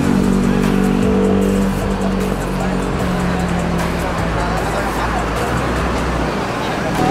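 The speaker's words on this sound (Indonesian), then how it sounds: "Wah, ini kehadiran bis NPM." NPM bus arriving from Padang at Pondok Pinang, a loud engine rumble rolling in close amid roadside noise, with people talking over it.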